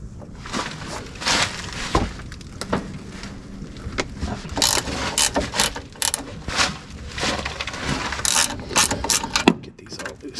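Rapid, repeated ratchet clicking comes in bursts as tight bolts are worked loose on the front end of a first-generation Toyota Tacoma during a CV axle and ball joint rebuild, loud and close with metallic clanks between strokes.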